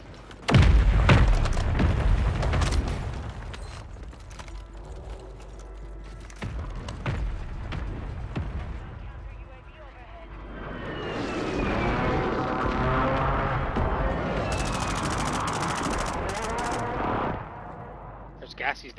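Gunfire in a multiplayer video game: a loud cluster of close shots and bursts at the start, then scattered shots and a longer stretch of distant firing and combat noise, with brief voices.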